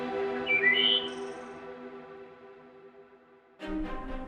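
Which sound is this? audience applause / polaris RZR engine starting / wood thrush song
wood thrush song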